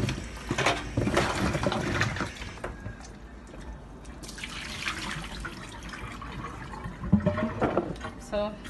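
Pumpkin and other vegetables for an Ital soup being washed under a running tap, a steady splashing water stream with clattering handling, plus voices talking at moments.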